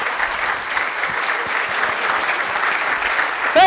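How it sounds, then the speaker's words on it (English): Audience applause fills a conference hall at a 2011 Israel event, a steady dense wash of clapping held at even loudness throughout, with a brief tonal sound at the very end. "A big round of applause."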